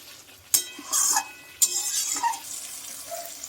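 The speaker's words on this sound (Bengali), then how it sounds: "এবার এটা আমি মাংসের সাথে ভালো করে মিশিয়ে নিচ্ছি।" Spinach and chicken being stirred and mixed in a pan, with a couple of sharp utensil clinks against the cookware and wet sloshing, scraping sounds between them over a few seconds; no voices.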